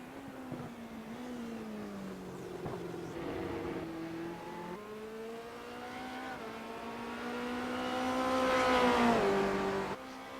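A race car engine at Silverstone in iRacing revs through gear changes, its pitch climbing and dropping across several shifts before building to a louder, higher peak near the end, heard alone without talk.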